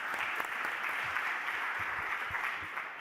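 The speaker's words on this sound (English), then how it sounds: "Please join me in giving a round of applause." Audience at an urban research conference in a large hall, giving steady, dense applause for about three seconds, loud and even throughout.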